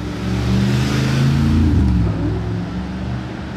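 A Ferrari 488 sports car accelerates with a loud, close engine roar that swells to a peak and then eases off slightly, a continuous deep growl with no voices.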